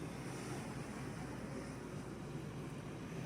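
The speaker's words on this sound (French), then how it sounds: "En fait, ici, il y a tout le temps du vent." Wind blows steadily along the coast at Dakhla, a soft, continuous rushing hiss mixed with distant surf, faint and unbroken, with no voices.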